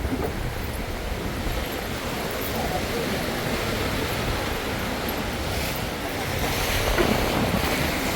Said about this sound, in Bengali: চলো চলো খুব হাওয়া চলছে